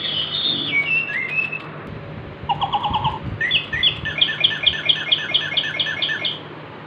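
Several small birds chirp and tweet nearby, trading bright whistled calls, with a rapid run of repeated chirps toward the end and no talking.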